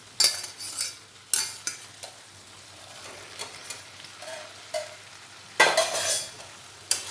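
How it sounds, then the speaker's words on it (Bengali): Potato and papaya stir-fry with spices in a pan. A spatula scrapes and stirs in irregular bursts, with louder scraping near the end, over a soft sizzle and faint background hum. "দিয়ে এই আলুর সাথে পেঁপেটা আরও কিছুক্ষণ কষিয়ে নেব।"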